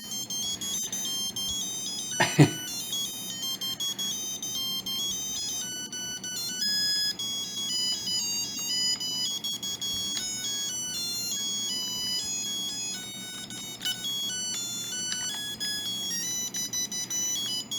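Bright electronic beeps and chiptune-style melodies play continuously from an old Tiger handheld Sonic the Hedgehog 3 game, with a brief click near the start and steady tones throughout.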